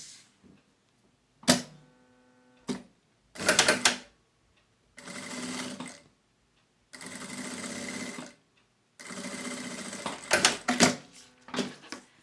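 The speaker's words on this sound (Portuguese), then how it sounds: "Então, eu vou costurar aqui o meu viés, viro e rebato." A sewing machine stitches bias binding onto clear plastic using a Teflon presser foot, running in several short, close bursts of rapid whirring separated by pauses.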